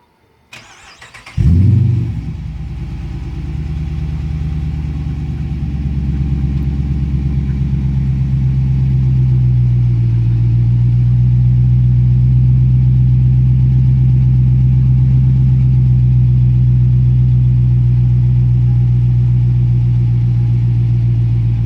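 A 2016 Dodge Charger R/T V8 with Borla Pro XS mufflers cranks and fires up, then settles into a deep, steady rumbling idle that stays loud and close for the rest of the clip.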